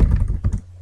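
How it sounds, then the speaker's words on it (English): Typing on a computer keyboard during editing software work, with a quick run of soft clustered key taps and thunks close to the microphone before the clicking pauses near the end. "I am terrible at typing, I apologize."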